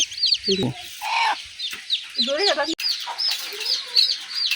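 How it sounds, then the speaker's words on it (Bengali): Chickens cluck and squawk close by in short bursts, while small birds chirp steadily in the background. "এখন যাই বারিন্দা নিয়ে মুরগির খাউন দেই"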